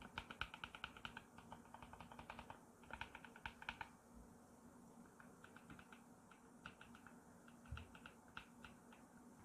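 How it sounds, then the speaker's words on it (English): Soft, muted keystrokes on an EPOMAKER EK21 gasket-mounted number pad fitted with Flamingo linear switches, quick bursts of close tapping separated by brief pauses, quiet and alone. "you have your Flamingo linear switches, which are very quiet"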